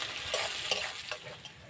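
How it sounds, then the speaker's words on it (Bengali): Chopped onion frying in oil in a home kitchen, a soft continuous sizzle with occasional stirring scrapes, close and fairly quiet. "এবার দিয়ে দেবো পেঁয়াজ কুচি। পেঁয়াজটা একটু ভেজে নেব"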